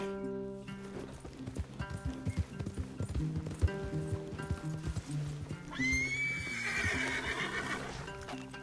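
Horses in Red Dead Redemption 2 stepping about with scattered clip-clop hoofbeats, then a loud, shrill neigh rising and trailing off near the end, close by with no speech.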